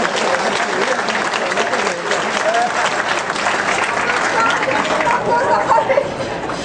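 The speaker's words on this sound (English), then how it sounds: "Please give yourself a round of applause for being here and celebrating with us." Sustained audience applause from a crowd gathered in a restaurant at a California State Assembly campaign celebration, dense and steady throughout with faint chatter mixed in.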